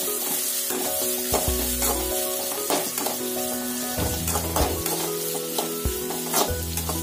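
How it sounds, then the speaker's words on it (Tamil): Onions sauté in hot oil in a pan for a mutton keema dish, a steady close sizzle broken by repeated scraping stirs and clinks of a utensil against the pan, with no talking. "இப்ப நம்ம வெங்காயத்தை போடுங்க. வெங்காயத்தை போட்டு நல்லா வதக்குங்க."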